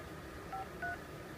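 A phone keypad dials a 1-800 number, two short DTMF tones beeping in quick succession, quiet and clean against a soft background hiss.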